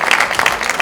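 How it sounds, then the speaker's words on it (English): Short burst of applause from an audience at a community event during Oniru coronation week, steady and dense for under a second with no voices over it. "Please let's give KBAC a round of applause."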